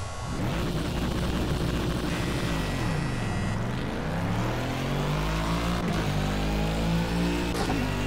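Bentley Continental GT3 race car engine at Le Mans in the racing game Project Cars, a loud continuous roar rising and falling through gear changes as the car accelerates, with no talk over it.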